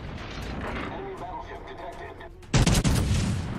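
German battleship guns fire in World of Warships Legends, a sudden loud booming salvo that bursts in near the end over a low rumbling background, with someone talking earlier.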